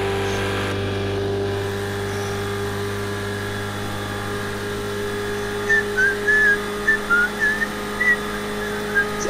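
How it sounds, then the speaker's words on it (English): A person whistles a few short, breathy notes in separate bursts over a steady low engine hum in the background. "See, I'm getting better at whistling by the day."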